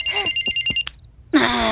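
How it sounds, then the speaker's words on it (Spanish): A cartoon telephone in The Simpsons rings in a rapid electronic trill of short repeated pulses, loud and close, stopping abruptly before a brief pause and a voice starting. "El teléfono robado de Bart Simpson"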